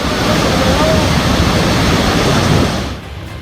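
Yamuna floodwater pouring through Kambakshpur village, a loud steady rushing roar of broadband water noise that holds constant and then drops away sharply near the end.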